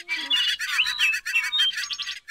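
Bright, warbling bird-like whistling, a person imitating birdsong with quick trills and chirpy phrases, close and fairly loud.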